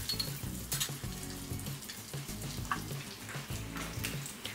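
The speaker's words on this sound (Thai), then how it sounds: "นี่นะครับทอดจนเหลืองแบบนี้เลยนะครับ" Snakehead fish deep-frying in hot oil over high heat, a close, fairly quiet bubbling sizzle with irregular small crackles throughout.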